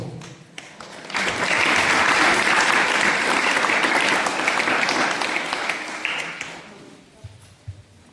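A room full of people at a Sunday School Day event clapping loudly and steadily for several seconds, swelling quickly then tapering off into scattered claps.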